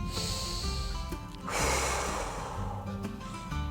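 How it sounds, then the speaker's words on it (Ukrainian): Young preschool children breathe in through the nose and then blow out hard through the mouth, a loud breathy exhale rushing in midway and trailing off under faint background noise. "А тепер трохи сильніше робимо вдих і видихаємо сильно."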